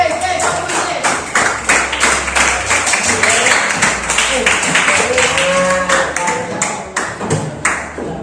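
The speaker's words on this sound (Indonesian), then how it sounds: "Tepuk tangan dulu untuk kelompok kinestetik" Applause for a kinesthetic student group in an eighth-grade social studies classroom, a dense run of claps lasting the whole stretch, loud and close, with voices mixed in.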